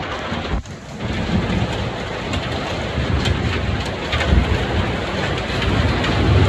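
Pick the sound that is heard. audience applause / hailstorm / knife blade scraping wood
hailstorm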